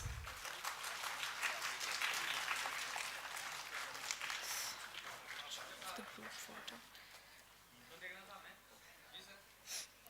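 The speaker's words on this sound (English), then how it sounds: "I request all the audience to give a big round of applause" An audience at an international agriculture conference claps for a Young Researcher award winner, a fairly quiet, sustained spread of clapping that thins out toward the end, with some breathy noise close by.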